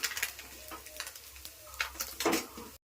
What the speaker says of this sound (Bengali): ফোড়ন দিচ্ছি, জিরা ফোড়ন